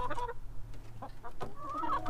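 Backyard hens clucking close by as they eat, with short repeated clucks and soft murmurs coming in quick irregular bursts.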